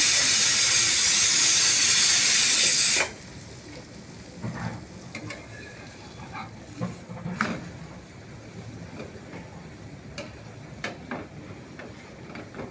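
Cheese paratha roasting in a pan with almond butter added at the side gives a loud broadband hiss for the first three seconds, then drops to a soft, steady sizzle with occasional small crackles and pops.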